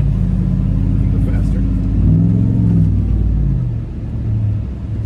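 A 1000 hp Hennessey Mammoth TRX Havoc Edition truck rumbles off-road, its deep engine droning and revving close up with a low, heavy roar that dips and swells, while a voice talks over it.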